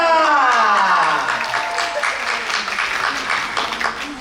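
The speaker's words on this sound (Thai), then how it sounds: "ขอเสียงปรบมือกับคุณมินพิชยา" Audience applause welcoming actress Min Pichaya at a TV channel drama launch event, a steady loud crowd clapping throughout, with a presenter's voice fading at the start.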